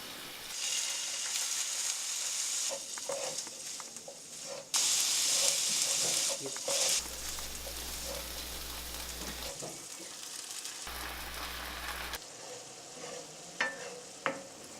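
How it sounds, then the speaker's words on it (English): Beans simmer with honey, vinegar and water in a pan, giving a steady sizzling hiss with scraping stirs and utensil clicks throughout. A louder burst of steam comes midway, close and alone. "Stir it up for 5 to 7 minutes or until there's not much liquid left."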